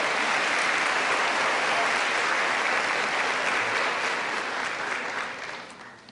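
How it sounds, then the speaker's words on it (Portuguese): A church congregation claps loudly in sustained, dense applause that fills the room, then gradually tapers and fades toward the end. "Uma salva de palmas, Rogério!"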